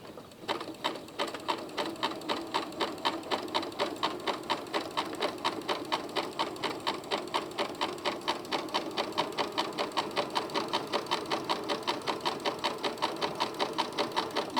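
Sewing machine with a beading foot stitching beads onto fabric at a moderate, even pace, a close rhythmic mechanical chatter running continuously, with no speech.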